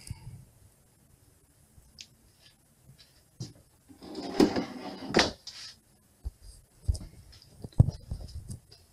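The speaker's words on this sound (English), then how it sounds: "Some drawers." Wooden drawers on a 2014 Balance 451 catamaran slide open and shut, giving scattered soft clicks, thumps and sliding rubs, close by and quiet, with no talking.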